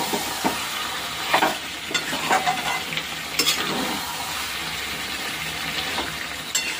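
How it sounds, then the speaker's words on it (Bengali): Garlic sautés in hot oil with a steady sizzle while a spoon stirs and scrapes the pan in irregular bursts, close and moderately loud with no talking. "আর একটু রসুনটা ভালো করে কষাবো, রসুনের যাতে কাঁচা গন্ধটা না থাকে,"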